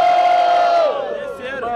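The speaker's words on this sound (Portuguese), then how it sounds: "Mão pro outro e muito barulho, quem gostou mais da rima do MC Johnny" A crowd at a rap battle in São Gonçalo roars and cheers loudly, with a strong sustained shout over the noisy mass of voices.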